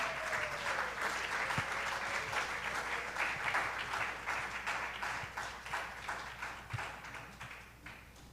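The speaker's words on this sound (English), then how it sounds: "give a round of applause for Martin Bejerano" A jazz club audience applauds pianist Martin Bejerano with sustained, even applause from a crowd, heard faint and somewhat distant, tapering off toward the end.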